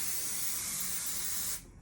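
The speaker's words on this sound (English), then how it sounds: "spray a quick coat on there" Temporary adhesive spray applied to embroidery stabilizer in one steady, close hissing burst of about a second and a half that cuts off abruptly.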